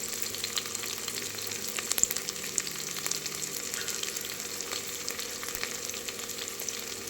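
Curry leaves, green chillies and coriander fry in a pan of oil with a little ghee, giving a steady close sizzle and crackle throughout with faint stirring and no talk.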